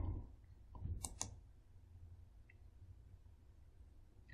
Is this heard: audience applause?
no